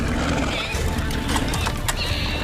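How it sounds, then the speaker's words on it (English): Horses are let out, neighing loudly and clopping their hooves over a dense, noisy background, with some talk in a cartoon setting from Star Wars: The Clone Wars. "Oh, you're letting the horses out?"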